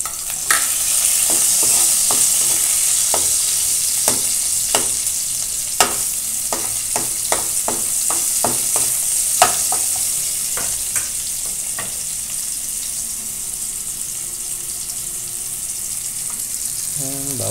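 Garlic and onion sauté in a hot pan of oil for a vegetable dish, giving a steady close sizzle with repeated sharp scraping and stirring clicks throughout.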